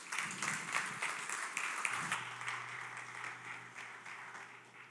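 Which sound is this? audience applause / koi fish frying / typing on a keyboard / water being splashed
audience applause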